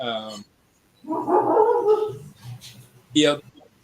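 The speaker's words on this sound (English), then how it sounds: "Whose dog is that? I think that's my dog." A dog barks and yips in short bursts, fairly close. Voices talk around it.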